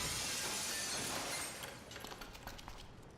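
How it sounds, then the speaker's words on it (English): Glass breaking in the video game Dead Synchronicity, a loud crash followed by scattered tinkling shards falling and settling, no talking. "let's cross our fingers that the seat cover absorbs the noise of the breaking glass"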